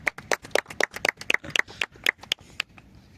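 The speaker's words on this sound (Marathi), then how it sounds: "चला या. टाळी वाजवा रे." A small group claps in quick, uneven rhythm at a birthday party at a beach resort, about a dozen sharp, close hand claps that thin out and stop near the end.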